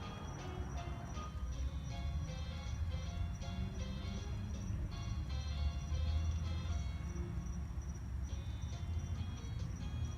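Faint music drifts from a yard Christmas lights display, a tinkly melody heard from a distance over steady outdoor rumble and a hum like passing traffic.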